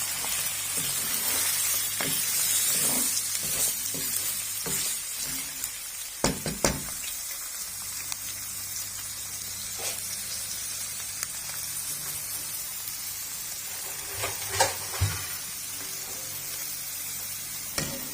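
Washed mutton drops into a hot pan for mutton korma and sizzles steadily, with a bright hiss throughout and occasional knocks and clatters of a spoon stirring the meat, close up and without talking.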